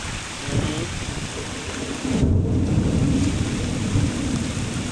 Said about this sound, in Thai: โอ้ฝนตก